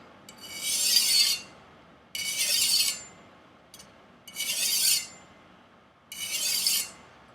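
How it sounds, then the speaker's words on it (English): A Martin Yan chef knife being sharpened on a whetstone with angled strokes, four or five close, even rasping scrapes about a second each, separated by short pauses. "an angled stroke here on the whetstone"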